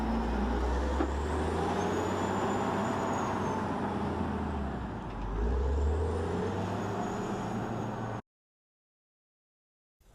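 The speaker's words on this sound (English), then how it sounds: "After dumping, it reverses back and lower the bucket before returning to the load area" A wheeled loader at a construction site reverses and lowers its bucket with a steady, loud diesel rumble and a slowly rising and falling whine. The sound cuts off abruptly near the end, leaving silence.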